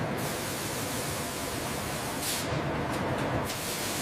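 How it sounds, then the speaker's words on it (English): Fine water spray washing banana blossoms on a factory line, a steady loud hissing rush throughout with no talk. "A fine spray completes the washing stage."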